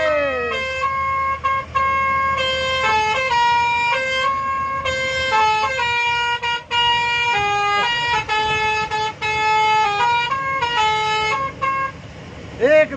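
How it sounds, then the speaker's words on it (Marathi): A bus's musical horns play Bollywood song tunes one after another, loud melodic honking phrases with short gaps between notes, close by. "आता आपण ना हॉर्न एक एक चेक करत जाऊया"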